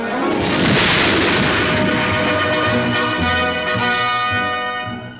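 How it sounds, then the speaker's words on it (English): A 450-ton Soviet space rocket launching, heard as a loud, sustained roaring rumble that swells early and holds steady for several seconds before easing slightly at the end. "At 7 minutes past 7 a.m. our time, the 450-ton rocket went up."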